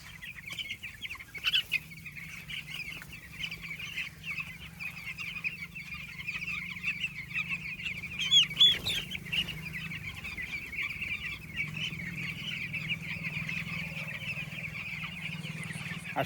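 Ten-day-old chicks in a poultry farm shed keep up a continuous, quiet chorus of high peeping from many birds at once. There are occasional louder chirps and a soft low hum underneath.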